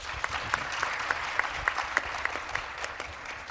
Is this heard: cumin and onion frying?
no